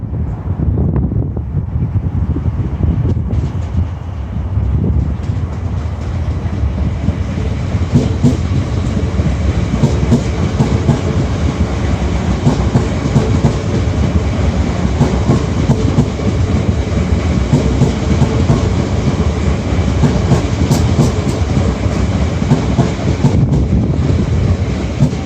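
A high capacity metro train passes Oakley with a loud, steady rumble and rail clatter lasting throughout, mixed with wind buffeting the microphone.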